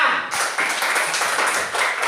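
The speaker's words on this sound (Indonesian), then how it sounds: "Ya, tepuk tangan." A class of children clapping their hands together in a classroom, a dense, steady patter of many small claps that goes on throughout, close and fairly loud.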